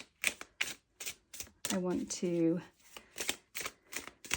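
A tarot card deck is shuffled in quick, crisp riffles and taps at close range, running in short bursts under a woman's soft speech.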